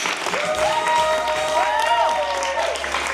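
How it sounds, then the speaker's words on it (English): Audience applause after a performance of a mythology-themed piece, steady clapping with voices and tonal sounds riding over it throughout. "Come back for one more round of applause for Alpo, Felicia, and ever."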